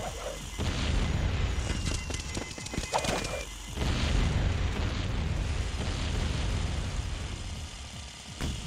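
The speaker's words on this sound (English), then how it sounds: "Watch as I hit you with a bomb." Deep booming bomb blasts from the video game Jak 2, with several heavy rumbling explosions and sharp crackles, then lingering rolling rumble and debris noise.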